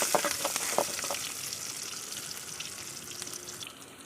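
Onion and fenugreek seeds frying in hot oil in a pan for a fish curry: a steady, close sizzle that is loudest at the start with a few crackles, then settles into a gentler, even hiss.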